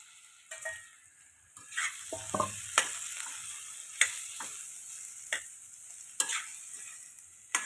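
Potatoes fry with turmeric in a pan, a soft sizzle under repeated sharp taps and scrapes of a spatula as they are stirred, close by and with no talking.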